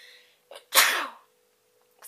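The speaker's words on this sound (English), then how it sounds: "And I have to sneeze." A single close, sharp sneeze with a quick breath drawn in just before it, followed by quiet.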